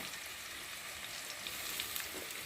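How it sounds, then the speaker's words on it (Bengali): Spice paste of turmeric, chilli powder, ginger paste, cumin paste, salt and chopped tomato frying in a pan, a steady close hiss and crackle without pause, with no voices. "ভালো করে মশলাটা কষিয়ে নেবো যতক্ষণ না মশলার একটা গন্ধ থাকবে"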